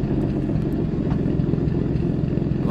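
A Ford pickup truck's engine rumbles steadily in EmergeNYC, a dense, clattering low drone that stays loud and constant throughout, with no other sound rising above it.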